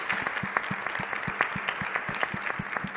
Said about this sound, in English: A round of applause for Mary again, and for all CHWs, everyone.